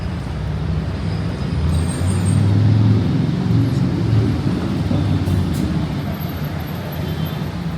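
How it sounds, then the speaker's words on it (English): Busy city traffic in Mexico City makes a continuous roar of cars and buses, a dense low rumble that swells slightly midway and carries on with no voices. "Loads of traffic."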